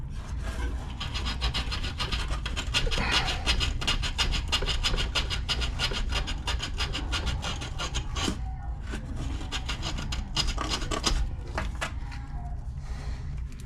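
Sand cloth rubs back and forth on a workpiece with rapid, rasping strokes, close and continuous, the scratchy texture varying slightly in intensity throughout.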